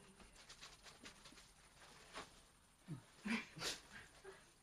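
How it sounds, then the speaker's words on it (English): A dog is faint and somewhat distant, making a few soft whimpering and snuffling sounds with light pattering in between, followed by a small cluster of short yelps toward the end. "My dog, I guess."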